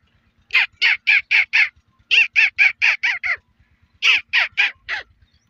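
A man imitates a parrot's call with his voice, giving three bursts of quick, shrill squawks, about five or six sharp calls per burst with short pauses between, loud and close with no other sound.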